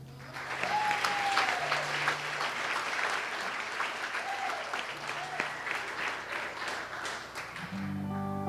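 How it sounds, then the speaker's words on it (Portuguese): Warm applause from an audience, dense continuous clapping that stays steady for several seconds before fading near the end. "por favor, uma salva de palmas"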